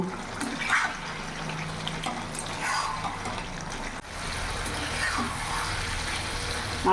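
Katoa data stalk curry with vegetables and fish head bubbling in a pan, a steady continuous watery simmer close by with no talk.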